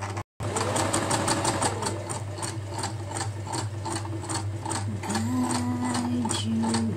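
A sewing machine runs a straight stitch on scrap fabric, a close, steady mechanical whir with an even, rapid needle rhythm. It cuts out for a moment near the start, then keeps running without talk.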